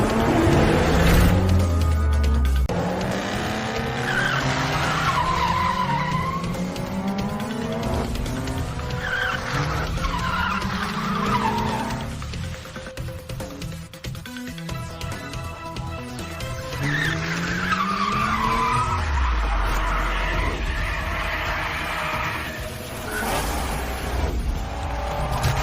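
Race cars skidding and squealing on a wet track during a rainy race, with roaring engines, tires screeching in repeated sweeps and cars passing close and loud throughout.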